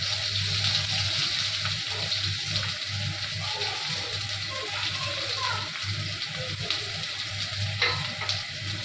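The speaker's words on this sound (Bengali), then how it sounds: "তেল দেওয়ার পরে পেঁয়াজগুলো ভাজতে দিয়ে দেবো" Onions fry in a little oil in a pan, giving a steady, close sizzle that holds for the whole stretch with only slight swells.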